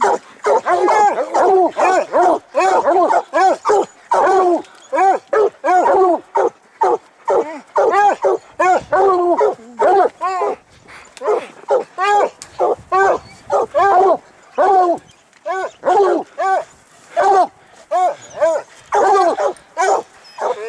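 A pack of hunting dogs bays and barks at a cougar up a tree in deep snow, a continuous, loud chorus of overlapping barks and yelps close by, with a voice calling out now and then.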